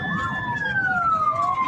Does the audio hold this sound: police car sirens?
yes